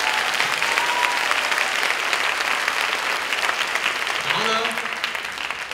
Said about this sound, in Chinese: 请大家给他们热烈的掌声